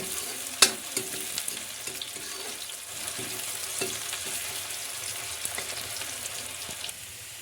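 Onions and green chilies sauté in hot oil in a pan, with a soft, steady sizzle and occasional clinks and stirring scrapes of a spatula, fairly quiet and without talk.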